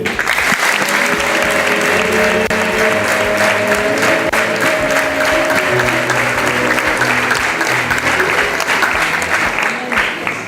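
A congregation at an ordination ceremony applauds three people, loud and sustained clapping that fills the room for the full stretch, with faint voices underneath.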